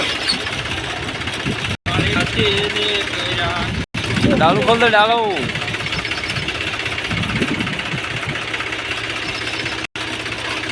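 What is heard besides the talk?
tractor engine running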